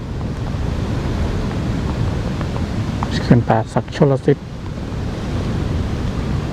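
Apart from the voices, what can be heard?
strong wind at Pa Sak Jolasid Dam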